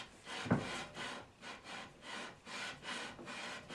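Rhythmic rasping strokes of a 12-string Stratocaster guitar's wood being sanded by hand at an angle, about seven steady back-and-forth passes, close and moderately loud with no talking.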